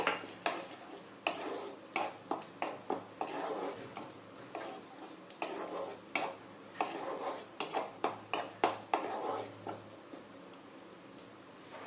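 Cashew and poppy seed paste stirred into a cauliflower roast makes repeated metal spoon scrapes and clinks against the pan in an uneven rhythm, close by, with a faint sizzle underneath.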